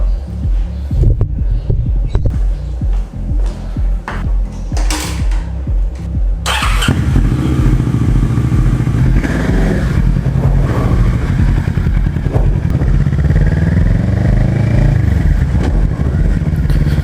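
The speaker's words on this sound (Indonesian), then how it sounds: "Jadi Kawasaki R6N tahun 2012 motor ini." A 2012 Kawasaki ER6N motorcycle engine idles and throbs steadily, loud and close, with a brief rougher start before settling into a continuous low rumble.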